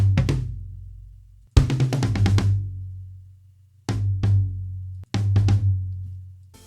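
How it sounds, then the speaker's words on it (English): A drum fill played only on toms with the Logic Pro Drummer Retro Rock kit: clusters of quick, booming, resonant tom hits, each group ringing out and decaying before the next, played cleanly with no other instruments. "All toms, as you can hear,"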